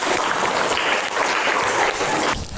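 Classroom audience clapping together in a dense, sustained burst of applause that stays loud and fairly even before tapering off at the end.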